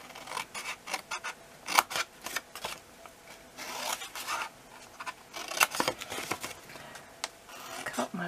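Scissors snip through paper wedges for a Stampin' Up! birthday gift box, making faint, sporadic close-up cuts and rustles, with a few sharper snips standing out.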